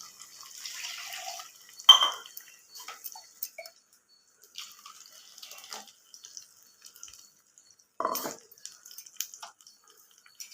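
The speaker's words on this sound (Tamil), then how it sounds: "இதில் கொஞ்சம் தண்ணி ஊற்றி அலசி ஊற்றிக்கலாம்." Water is poured into a cooking pot of sautéed onion and ground tomato and swirled to rinse it, giving a couple of brief splashes and light clinks separated by quiet stretches.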